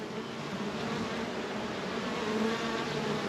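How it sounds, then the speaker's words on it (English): Agitated honeybees fill an opened Flow Hive during an inspection with smoke, giving a dense, steady, close buzzing drone that holds for the whole stretch with no voices. "Now the bees are starting to get a little agitated, getting smoke right in my face."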